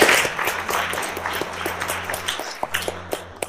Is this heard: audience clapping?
yes